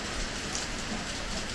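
Heavy rain and hail pouring down outdoors, a continuous loud hiss and patter of drops striking surfaces close by, steady and unbroken for the whole stretch, with no one speaking.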